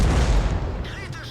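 In a tank video game, an SPG artillery gun fires at a Chieftain tank with a heavy, booming blast right at the start, followed by a rumbling, decaying tail.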